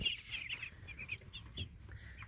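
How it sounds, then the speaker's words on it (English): Muscovy ducks and their young ducklings call at close range on a homestead: a run of thin, high peeps and soft chattering over low, muffled background noise. "9 Muscovy ducks here, and we got 3 more or 4 more inside."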